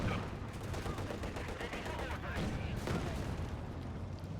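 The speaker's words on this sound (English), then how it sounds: "T-70 bombarding the Grenadiers" Dense battlefield gunfire and explosions from a T-70 tank bombarding Grenadiers in Company of Heroes 2, a loud, continuous din of rattling shots and booms, with a voice talking over it.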